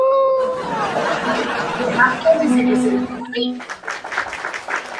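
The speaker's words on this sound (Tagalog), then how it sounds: "May palakpak pa yung pag-akyat mo." A small burst of clapping greets a guest joining a TikTok live stream, mixed under continuous chatty talk and laughter, with sharper claps standing out near the end.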